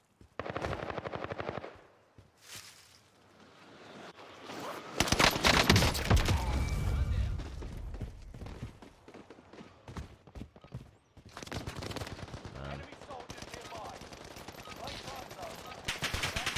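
Rapid automatic gunfire from weapons in the video game Warzone, fired with a fast fire-rate ammo type. It comes in loud bursts and sustained fusillades across the clip, mixed with other game effects and with no talk over it.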